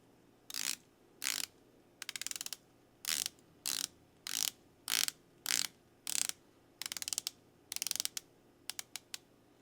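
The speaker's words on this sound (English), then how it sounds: "let's listen to the bezel action" A dive watch's rotating bezel is turned in short bursts of crisp ratcheting clicks, about a dozen close, quiet bursts separated by brief pauses, with no talk.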